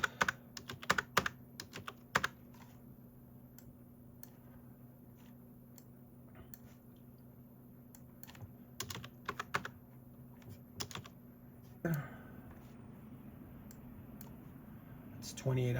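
Clicks from a computer keyboard as time sheet entries are typed, scattered bursts of light taps in short runs with long gaps between them, close and soft, with a voice speaking at points.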